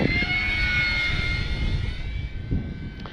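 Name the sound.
Arrows Bigfoot RC plane flying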